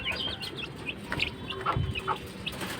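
Chickens, kept together with pigeons, give soft scattered clucks and short calls nearby, with no talking, the notes irregular and fairly quiet over a faint background.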